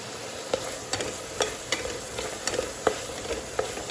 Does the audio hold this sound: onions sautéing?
yes